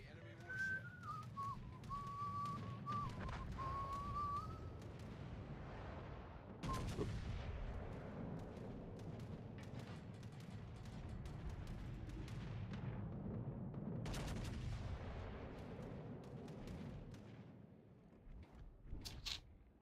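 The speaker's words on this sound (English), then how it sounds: "Concentrate fire on the enemy warship." Gunfire at an enemy warship in a video game: scattered booming shots and crackling volleys over a rumbling battle bed, opening with a long descending whistle, fairly distant, with faint voices in the background.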